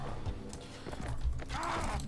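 A horse's hoofbeats pound steadily in the Mount & Blade Warband video game, set against a constant dense battle din, loud and continuous throughout.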